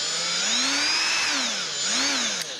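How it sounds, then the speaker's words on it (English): A Milwaukee variable-speed die grinder whines loudly while porting cylinder heads, its pitch rising and falling in waves as speed and load change, close and continuous with no talk. "I'm just using my Milwaukee die grinder. It's variable speed."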